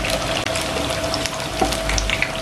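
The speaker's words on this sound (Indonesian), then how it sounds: "Dan tinggal kalian goreng satu persatu semuanya." Sesame-coated banana pieces in coconut milk batter fry over low heat in oil, giving a steady, soft sizzle with faint crackles and no talking.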